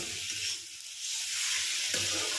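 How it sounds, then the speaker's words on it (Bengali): Bitter gourd and potato, fried earlier, sizzle in hot oil with onion and tomato, giving a steady close frying hiss that briefly thins out midway and then swells again as the pan is stirred. "ভেজে রাখা উচ্ছে আর আলুটা দিয়ে দিলাম।"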